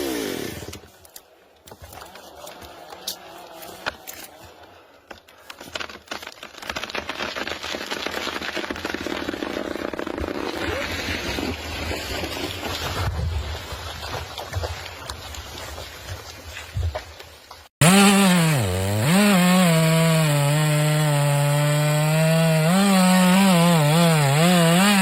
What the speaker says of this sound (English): The sharp chainsaw is gripped firmly